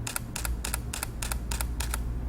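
Rapid burst of shutter clicks from a Canon EOS M5 mirrorless camera in high-speed continuous mode, seven evenly spaced crisp clicks at close range over low background hum.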